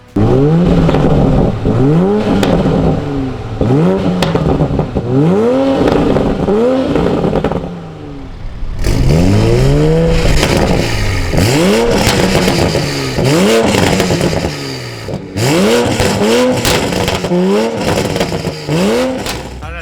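A 2020 Toyota Supra with an Injen intake and catless downpipe on a stock tune revs hard in repeated loud sweeps, each blip followed by crackling burbles, with brief pauses between pulls and no voices.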